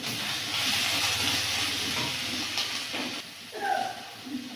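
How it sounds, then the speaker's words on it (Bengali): Spice paste with chili, ground cumin and turmeric is sautéed in a pan in a village kitchen, a steady close hissing sizzle with occasional stirring scrapes, alone without talk. "লঙ্কা, জিরে গুঁড়ো, হলুদ দিয়ে মশলাটা কষিয়ে নেব।"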